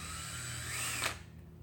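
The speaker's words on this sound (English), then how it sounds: "So I'm just going to drill some holes here." A power drill boring holes into plastic whirs steadily at close range for a moment before winding down.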